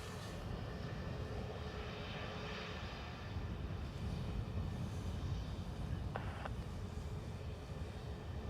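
An Airbus A320neo jet departing Dublin Airport for Heathrow, a steady, broad engine roar held at a distance throughout, with no talk over it.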